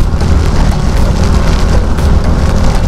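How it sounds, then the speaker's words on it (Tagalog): Heavy rain pours down during an outdoor ride near Tayak Hill in Laguna, a loud, dense and unbroken roar of drops with no voices. "lumalakas yung ulan"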